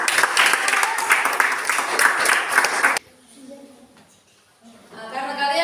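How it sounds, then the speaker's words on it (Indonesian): A classroom of students claps together for about three seconds, a loud, dense burst that stops abruptly, followed by quiet and then a voice speaking. "tepuk tangan"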